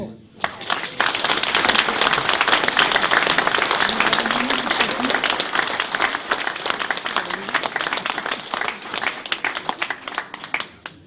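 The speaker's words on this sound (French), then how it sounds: "après vous aurez le droit de l'applaudir" Audience at a village New Year's greetings ceremony applauding a cyclocross vice world champion, a dense, loud burst of clapping from a full room that holds steady for about ten seconds before stopping.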